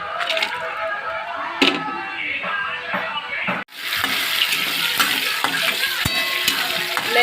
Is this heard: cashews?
yes